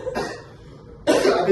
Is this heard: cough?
yes